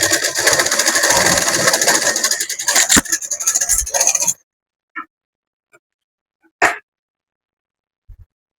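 A sewing machine stitches a semi patiala pant in a steady, fast, close run for about four seconds, then stops; a few faint isolated clicks and taps follow in the quiet.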